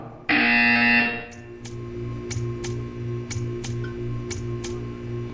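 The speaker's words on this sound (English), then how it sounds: "When you hear the buzzer, stare at the art." A harsh electronic buzzer from the video game Portal 2 blares for about a second, then a quieter ticking pulse repeats at a steady beat beneath a faint hum.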